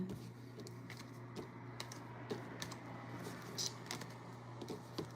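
Tarot cards are shuffled in a quiet room, giving soft, irregular riffling clicks and taps that come in quick bursts over a low steady hum, close and faint, with no talking.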